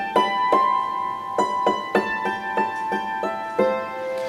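A hammered dulcimer plays the B part of the tune Danny Boy, with struck metal strings ringing bright in a slow, spaced series of about ten notes, each attack followed by a shimmering sustain.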